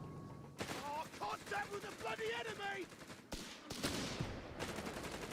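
In the video game Company of Heroes 3, an MG42 machine gun rattles off rapid bursts, continuous and loud amid battlefield noise, while a voice speaks over the early part.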